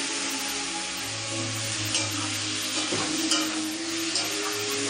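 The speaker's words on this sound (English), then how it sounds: "We are just trying to fry it very nicely, because all potatoes will absorb all these spices very nicely" Potatoes fry with spices in a pan for a Bengali-style burbot fish curry, a loud, dense sizzle filling the background with occasional scraping stir strokes, heard close and without talk.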